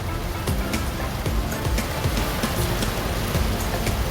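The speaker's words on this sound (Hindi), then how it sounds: "try not to drive in such heavy rain" Heavy rain pours steadily on a moving car in Lahore, a dense continuous hiss with scattered drop patters drumming on the body, close and loud throughout.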